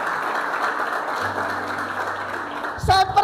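Applause from a congregation at a youth church fellowship service, a steady wash of clapping that carries on under a faint low hum, then a brief burst of louder sound near the end.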